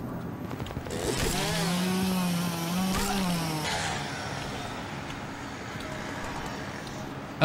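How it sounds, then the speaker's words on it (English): A chainsaw in a horror video game from the PC Cursed 98 demo disc, a steady, buzzing engine roar with a wavering, revving pitch over the first few seconds, then easing into a lower background rumble. "I can just let them run into the chainsaw."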